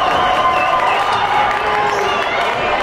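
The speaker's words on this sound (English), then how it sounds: "And the crowd is into it." A crowd at a basketball game cheers and shouts in a continuous roar, with whoops and high voices rising above the din, loud and sustained.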